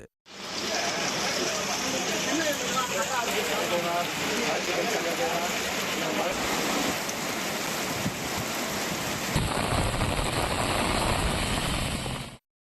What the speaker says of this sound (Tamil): இரவில் பலத்த மழை பெய்தது